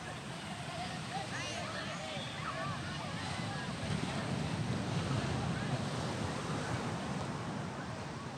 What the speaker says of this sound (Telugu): ఈ బీచ్ చూడండి బాగుంది, చాలా బాగుంది